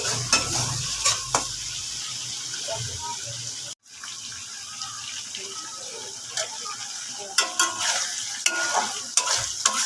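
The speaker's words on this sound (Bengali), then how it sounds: "এবার চিংড়ি মাছটা ভেজে নিচ্ছি" Prawns frying in a pan give a steady crackling sizzle with repeated stirring scrapes and clinks, close and fairly loud, briefly dropping out near the middle before continuing.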